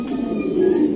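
Racing pigeons give a low, continuous throaty coo, close and fairly loud, with no talking over it.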